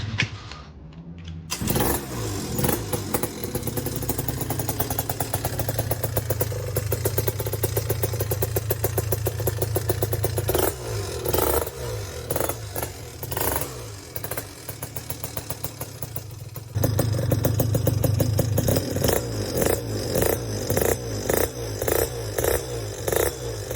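Yamaha BWS scooter with a Malossi engine build starting up and running, a steady buzzing two-stroke idle with revving surges, then a louder, rougher stretch toward the end, close up.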